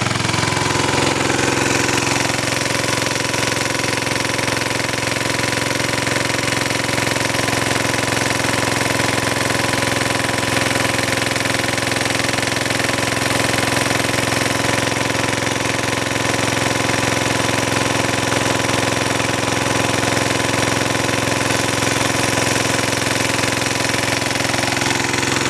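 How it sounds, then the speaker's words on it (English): A generator engine runs steadily and loudly at close range, a continuous broadband drone with a knocking, hammering texture and no pauses, holding even throughout with no voices. "generator is running good"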